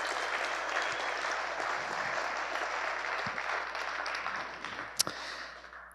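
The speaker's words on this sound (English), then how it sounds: "another round of applause for the Taylor and Kavanaugh family for pulling it off" An audience applauds the Taylor and Kavanaugh family at a St. Louis soccer celebration, a sustained wash of clapping at moderate distance with a few sharper claps standing out near the end.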